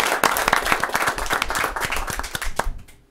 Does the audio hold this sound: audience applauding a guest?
yes